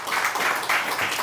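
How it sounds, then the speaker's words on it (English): Audience applause welcoming an ambassador at a fireside chat event, a brief steady burst of many hands clapping in a room. "big round of applause"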